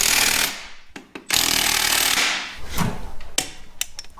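An impact wrench fitted with a torque-limiting extension drives engine bolts on a large off-road wrecker, giving loud rattling bursts broken by short pauses and sharp knocks, close to the microphone.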